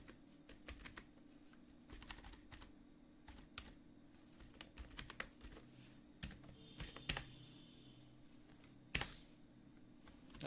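Someone types on a computer keyboard in Word 2013, with quiet, irregular bursts of key clicks and short pauses between them. A steady low hum sits underneath, and one sharper key strike stands out near the end.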